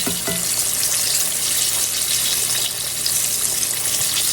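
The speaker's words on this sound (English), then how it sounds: "this cast iron skillet is actually cooking the cabbage" Cabbage frying in a cast iron skillet, a loud, even hiss of sizzling oil that runs unbroken throughout with no voices.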